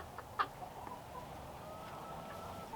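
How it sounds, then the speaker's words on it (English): A chicken clucks a few short times close by against a steady low background hum, with one brief sharper call standing out early on. "Big old chicken right underneath it."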